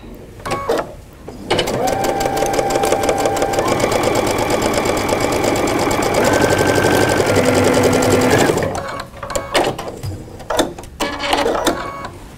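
A sewing machine runs a continuous 1/4 inch seam on quilting fabric, a loud steady rapid stitching rattle lasting several seconds, bracketed by brief handling clicks before and after.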